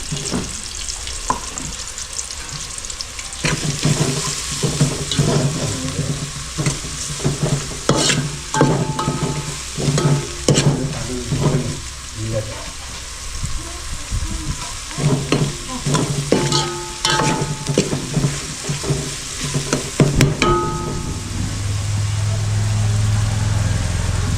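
Onions for boti fry sizzle steadily in a pan, with frequent scraping stirs and clatters of a spatula against the metal, close and fairly loud, and a low engine-like hum near the end.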